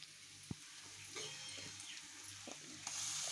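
Paneer masala curry, salted and simmering, is stirred in a pan, with a faint sizzle broken by soft scraping and clicking strokes of the spoon. No talking.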